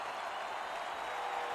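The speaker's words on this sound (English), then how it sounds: "You can feel the energy in this crowd." A hockey arena crowd at a Kelly Cup Finals game cheers and applauds, a dense steady roar of clapping heard from within the stands.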